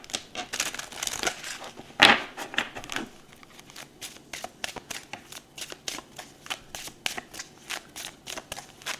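A deck of oracle cards being shuffled up close, a quick run of crisp riffling flutters with one louder burst early on, then steady rhythmic snaps of cards falling together, no voices.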